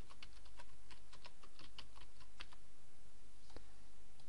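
Typing on a computer keyboard while searching for a contact form plugin, with quick bursts of keystrokes that stop near the end, then a single tap. The clicks are close and clear over a low hum, and nobody talks.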